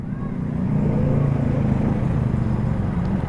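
Steady, busy road traffic on Road 10, with a continuous low engine rumble from passing cars and motorbikes close by, holding level for the whole stretch.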